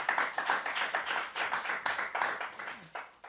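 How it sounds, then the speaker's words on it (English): A small audience at a university showcase gives a short round of applause. The rhythmic clapping is fairly close and even, with some crowd murmur underneath. "So give them a round of applause,"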